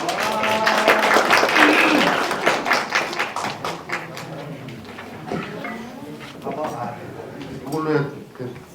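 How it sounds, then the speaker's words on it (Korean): An audience at a public forum claps to welcome a speaker, a burst of applause that thins into scattered taps and thuds, with a person talking over it. "큰 박수를 환영해 주시기 바랍니다"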